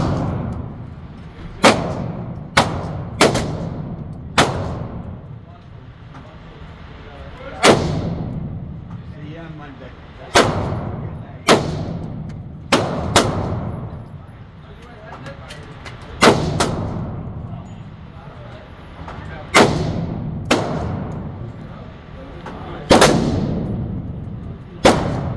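Gunshots fired one at a time at an outdoor shooting range, with sharp loud reports coming singly or in quick pairs at irregular intervals over a steady background hiss.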